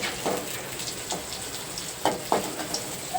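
Onions, green chillies and curry leaves fry in hot oil for a raw banana fry, giving a steady low sizzle broken by a few sharper crackles and pops near the end.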